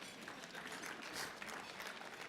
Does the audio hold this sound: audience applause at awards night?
yes